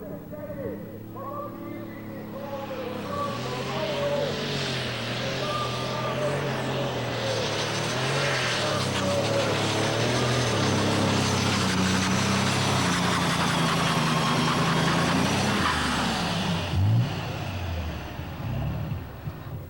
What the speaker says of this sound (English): These alky burners have a clean exhaust and very different running characteristics.